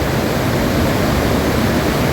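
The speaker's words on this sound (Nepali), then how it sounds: "यता पनि एउटा खोला छ, यो चाहिँ खासै बढेको छैन" Broad, steady roar of a swollen stream rushing after a flood, a constant loud wash of water close by with no pauses and no voices.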